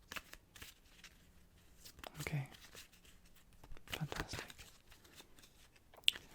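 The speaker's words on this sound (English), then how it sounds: "I've been shuffling these cards while talking to you for the last minute." A deck of playing cards shuffled near and soft, with several brief riffles and ruffles spread across the stretch, alongside a few quiet spoken words.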